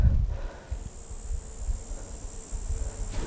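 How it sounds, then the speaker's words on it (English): Cicada buzzing outdoors in hunting country, a steady high-pitched drone holding evenly throughout, with faint handling noise and low rustling underneath. "Sounds like a cicada."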